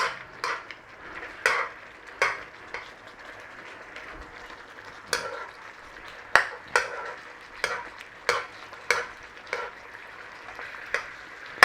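Pork chops finishing in a pan sauce, with a low bubbling sizzle broken by repeated sharp clinks and scrapes of a spoon against the pan, close, irregular and without talk.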